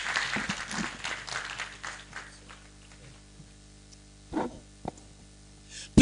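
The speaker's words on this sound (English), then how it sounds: "Please keep the applause coming" Scattered applause from a live lecture audience, a steady patter of clapping over the first two seconds that thins out, followed by a few isolated claps and a sharp burst at the end.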